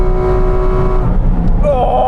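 A Porsche Cayman GT4 RS being driven hard on a race circuit, its engine droning steadily and loud from inside the cabin, with a voice speaking over it.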